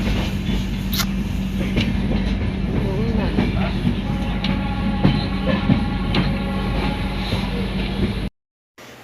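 A moving train rumbles steadily with rhythmic wheel clatter and occasional squeaks, ending abruptly.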